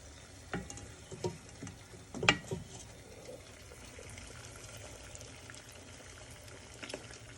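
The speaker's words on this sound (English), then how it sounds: "So I'm gonna pour this into the pot." Cornmeal porridge mix is poured into a pot of boiling water for Jamaican cornmeal porridge, giving a few soft splashes and a brief louder pour over steady bubbling.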